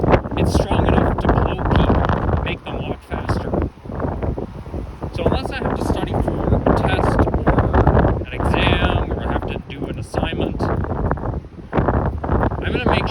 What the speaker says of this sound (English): it's really windy. The wind is literally blowing me